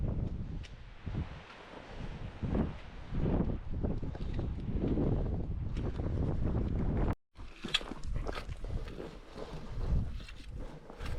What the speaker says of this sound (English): amazing difference in wind coming off the peak